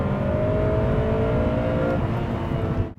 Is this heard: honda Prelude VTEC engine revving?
yes